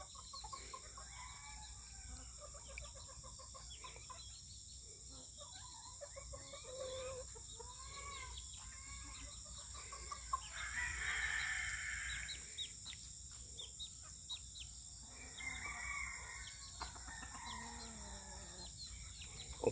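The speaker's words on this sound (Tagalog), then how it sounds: "Hindi pa na ilabas lahat yung mga manok guys." Chickens on a backyard farm cluck and squawk steadily at close range, with a rooster crowing partway through and a constant rural hum beneath.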